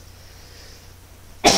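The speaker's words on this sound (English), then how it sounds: "Oh, I gotta sneeze." A single abrupt human sneeze bursts out at the very end after a stretch of quiet indoor room tone, loud and close.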